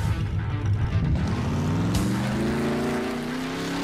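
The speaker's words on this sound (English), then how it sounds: "Now why am I listening to car sounds inside a free sound?" Car engine sound effects for a self-made horror video game, a droning motor whose pitch sweeps upward as it accelerates, moderately loud and alone with no talking.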